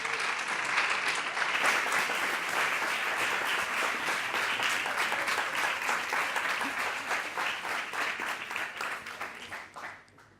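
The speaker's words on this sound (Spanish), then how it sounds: "Recibimos con un fuerte aplauso a la doctora Espósito" Audience at a science lecture applauds in welcome of a neuroscientist, loud continuous clapping with audible individual claps that holds steady and then fades out at the end.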